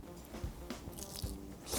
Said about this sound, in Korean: 와, 바삭한 소리가.